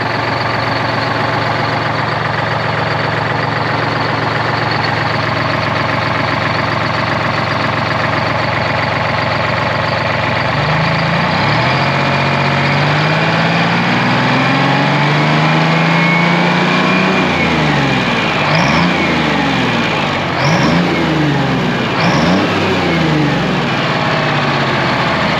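A Detroit Diesel 12v71 in a 1973 Peterbilt 352 cabover runs loud and close with a steady, rough idle, then revs up and down repeatedly in swelling throttle blips toward the end.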